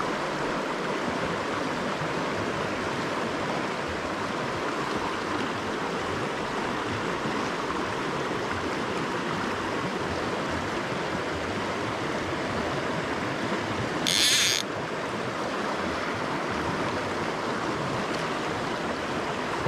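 The River Ayr flows through a pool and run, a steady close broadband rush of water that continues unbroken, with a brief higher splash or click midway.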